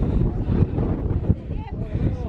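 Gusty wind buffets the microphone on the Huashan plank trail in China during wet, rainy weather, a steady low roar with surging gusts throughout and faint voices mixed in.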